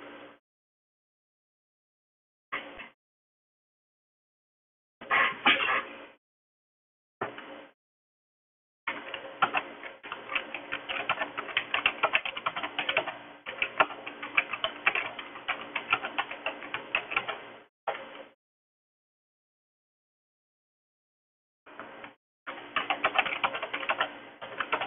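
Typing on a small keyboard comes in short bursts of rapid clicking, then one long continuous stretch of fast keystrokes, with silent gaps between the runs. It is close but fairly quiet, with no talking.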